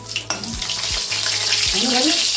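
Fish roe frying in hot oil gives a steady, close sizzle that runs unbroken through the short stretch, with a few low clunks of stirring or handling in the pan.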